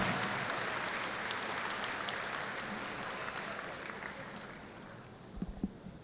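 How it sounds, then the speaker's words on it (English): Audience at a fall college graduation ceremony for LSC-North Harris clapping in a broad, sustained round that slowly fades, with a few louder claps near the end. "Give me a round of applause for being super excited for something that's great"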